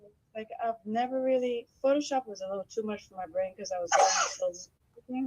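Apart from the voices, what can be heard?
sneeze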